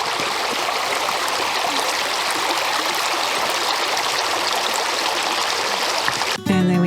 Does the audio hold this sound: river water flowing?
yes